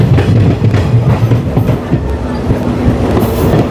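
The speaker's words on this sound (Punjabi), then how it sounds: "ਟ੍ਰੇਨ ਅਰਾਈਵ ਕਰ ਚੁੱਕੀ ਆ ਲਗਭਗ ਆਦਮਪੁਰ ਅਤੇ ਆ ਪਲੇਟਫਾਰਮ ਵੱਲ ਟ੍ਰੇਨ ਨੇ ਜਿਹੜਾ ਕਰਵ ਲੈ ਲਿਆ" A passenger train on the Jalandhar–Hoshiarpur line rolls into Adampur station and curves toward the platform, its wheels beating out a loud, close, rhythmic clickety-clack over a steady rumble.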